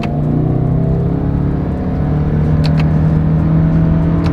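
A 2024 Toyota Camry Hybrid with a CVT accelerates hard in sport mode, heard from the cabin as a steady droning engine whir rising gradually in pitch, loud and without talk.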